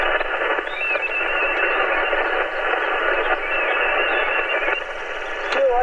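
Weak amateur radio signal from a park-to-park contact, barely above a steady band of receiver hiss and static that fills the whole stretch, with faint tones drifting through the noise.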